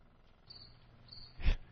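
Crickets chirping in short, faint, high trills, with one louder low thump near the end; no talking.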